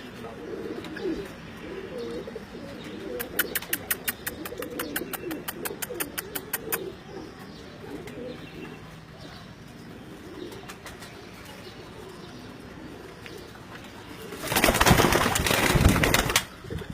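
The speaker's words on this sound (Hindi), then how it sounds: "टेडी कबूतर आपने पहले तो बहुत देखे होंगे" Teddy breed pigeons cooing in a loft, soft repeated coos with chirps and a brief burst of wing flapping near the end, close and moderately loud.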